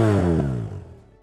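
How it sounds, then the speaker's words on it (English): BMW R1200RS motorcycle exhaust gives a brief loud rev that drops in pitch and fades quickly, a single close, rich engine note with strong harmonics. "start it up so you can hear the exhaust"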